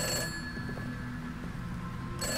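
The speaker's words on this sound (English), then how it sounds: "It's just a phone." A telephone rings with a steady, sustained electronic bell tone, fairly clear and alone with no talking, cutting off shortly before the end.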